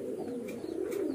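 Pigeons coo in a low, throaty, continuous murmur close by in a brief burst, with a faint higher chirp or two above it and no talk.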